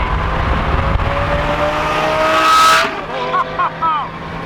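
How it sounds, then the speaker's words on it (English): A 2006 Lamborghini Gallardo's V10 engine roars loudly at high revs, climbing to a sharp peak before cutting off, then blipping in a few quick throttle bursts. "Arguably the best sounding V10 in the world."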